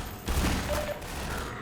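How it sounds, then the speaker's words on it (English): Gunfire in the video game Half-Life 2 Episode Two: a burst of rapid shots close by, a dense rattling volley lasting about a second over continuous game background noise. "Stop shooting me."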